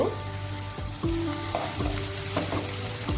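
Winter vegetables including carrot fry in a pan for oats khichdi, a close, steady sizzle broken by several quick stirring scrapes and utensil taps.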